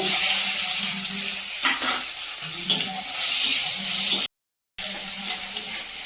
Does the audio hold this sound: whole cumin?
yes